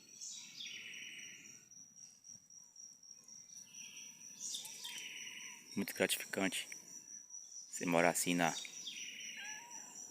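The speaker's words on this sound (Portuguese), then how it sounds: "A garrincha cantando." A wren (garrincha) sings in the countryside in repeated bright trilling phrases, with a steady cricket chorus underneath and someone talking quietly nearby.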